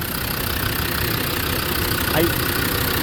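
Land Rover Defender classic TD5 diesel engine idling with the hood open, a steady continuous mechanical drone held at an even level throughout, with a faint voice briefly audible over it.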